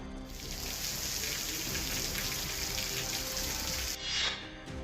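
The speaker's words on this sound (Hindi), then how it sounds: "झारखंड में झमाझम बारिश" Heavy rain falling in Jharkhand, a dense steady hiss of downpour on surfaces throughout, briefly swelling near the end.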